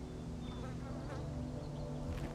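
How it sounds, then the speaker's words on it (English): Bees buzzing outdoors among flowers in the video game The Stanley Parable, a steady insect drone running faintly beneath the game's ambient sound for the whole stretch. "And I hear bees."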